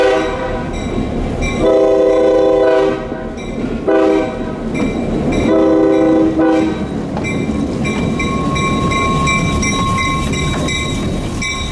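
An old locomotive in bluebonnet paint ambles along the Gordonsville branch of a Florida shortline. Its horn blasts in several long and short bursts over the rumble and clatter of the train, and a steady bell rings through the latter half.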